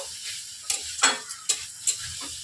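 Tomatoes sizzle in a frying pan for a fish roe curry while a spoon stirs them in four or five quick, close scrapes over a low, steady hiss.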